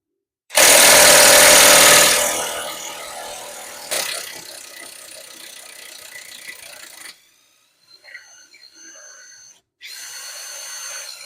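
An impact gun on a BMW E70 X5 spinning out a seized, heated bolt from the front upper control arm: a loud continuous rattling whir, then a short burst and tapering spins, ending in sharp repeated hammering bursts.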